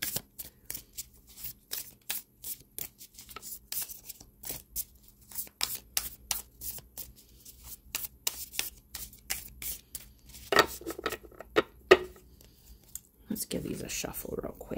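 Tarot cards are shuffled by hand in a long run of quick, crisp riffles and slaps, close and fairly loud, with a person speaking over parts of it.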